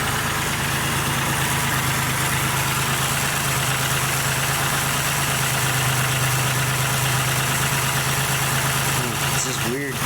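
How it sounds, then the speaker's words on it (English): A 1996 Pontiac Grand Prix 3.1 V6 engine idles steadily nearby with a constant low rumble and a busy ticking from loud lifters, a brief clank near the end. "This thing's got really loud lifters when she sits for a while."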